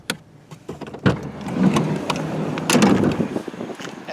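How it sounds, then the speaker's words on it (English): A rear passenger power window on a 2013 Mazda5 minivan lowers almost all the way with a steady electric motor whir, close up inside the parked car, opening with a click and ending in a few light knocks. "the back passenger seats have nice windows that go almost all the way down"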